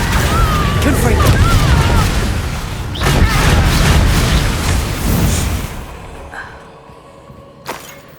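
Spell blasts and explosions from the video game Hogwarts Legacy boom and crackle in dense succession, with loud bursts and magical whooshes layered together before fading into a quieter tail with a final sharp pop.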